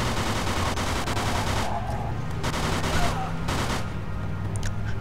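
Gunfire in Mafia II, rapid machine-gun bursts layered over a constant rumble, with a few sharper shots later, dense and close throughout.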